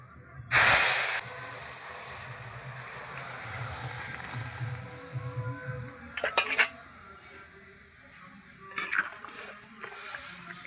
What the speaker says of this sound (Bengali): টক ডালটা ফোড়ন দেবো, লঙ্কা দিয়ে দিয়েছি, সর্ষে ফোড়ন দেবো টমেটো ডালে। এবার ডাল দিয়ে দিচ্ছি।